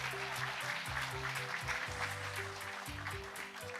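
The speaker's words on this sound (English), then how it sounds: "A round of applause, please, ladies and gentlemen." Conference audience applauding at a sustainable-business event, steady dense clapping throughout with background music underneath and no talk.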